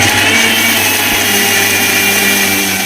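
A mixer grinder whirs steadily at close range, grinding roasted curry leaves and small onions for a spicy powder, a loud continuous motor drone with blade rattle and no talking.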